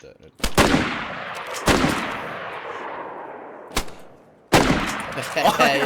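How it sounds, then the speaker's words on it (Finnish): Gunfire in the video game DayZ: four loud, sharp rifle shots spaced a second or two apart, each with a long echoing tail rolling off outdoors, with a burst of muffled talk near the end. "Ammutaanko yhteislaukaus?"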